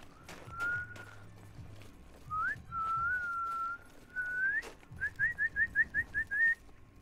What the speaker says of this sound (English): I'm whistling like a motherfucker.